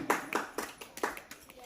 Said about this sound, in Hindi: एक बार जोरदार तालियां बजा दीजिए आप इनके लिए